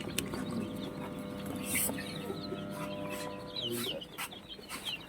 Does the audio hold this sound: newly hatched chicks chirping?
yes